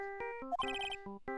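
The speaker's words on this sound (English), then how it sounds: "Oh, Mr. Nick, your phone is..." Mobile phone ringing in Phoenix Wright: Justice For All, a short electronic ringtone of bright, tonal beeps and a quick melodic trill, alone and clear.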